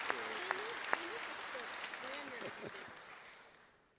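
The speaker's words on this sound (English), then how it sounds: "let's give these students a round of applause" An audience claps for graduating students at a high school graduation ceremony, a steady, fairly faint burst of applause that fades out, with a voice speaking over it.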